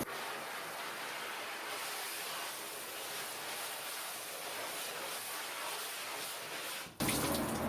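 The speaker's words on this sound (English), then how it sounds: "you'll see just how easy this comes out, just with a regular pressure off a hose" A hose spraying water to rinse emulsion off a screen printing screen in a sink, a steady hiss of water running continuously before a sudden louder change of spray near the end.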